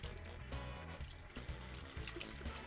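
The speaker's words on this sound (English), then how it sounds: "And just flush it through with water." Tap water runs and splashes as it flushes through a waste ink tank from an Epson 1500W printer. The flow is steady and close, with small surges and gurgles and no voices.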